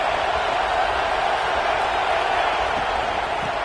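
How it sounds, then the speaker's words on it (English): A stadium crowd at an American football game roars continuously at a steady, loud level as the home defense tries to make a red zone stop. "This crowd is trying to inspire this defense to make a big red zone stop."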